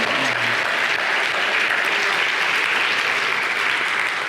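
Steady, loud applause from an audience, continuous clapping with no pauses throughout.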